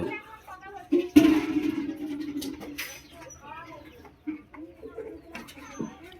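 Pigeons cooing in a loft, soft repeated throaty coos close by, with a burst of wing flapping early on and a person talking intermittently over the birds.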